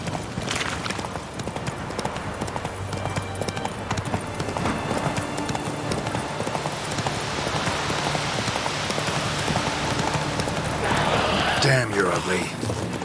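Geralt's horse Roach galloping through rain in The Witcher 3, a fast continuous clip-clop of hooves with pattering rain, close and steady, ending in a brief whinny-like burst near the end.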